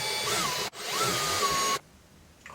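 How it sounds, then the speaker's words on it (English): A 1/16-inch cobalt steel bit in a power drill grinds against very hard metal on a Dewalt pole saw bar, a loud whining run, a short break, then a second long burst before it stops, with no talk. "Can't drill through it with even with a 16th inch diameter cobalt steel bit"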